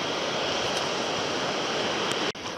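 Steady rushing water flows loudly and continuously, like a stream or small waterfall nearby in Malka Gorge, with a brief dip near the end as water is scooped into a bucket.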